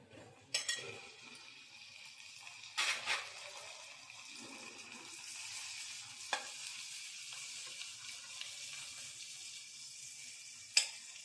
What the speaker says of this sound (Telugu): నేను ఉడకబెట్టి పెట్టుకున్న రొయ్యలండి అవి వేస్తున్నాను నూనెలో వేగాలి కాబట్టి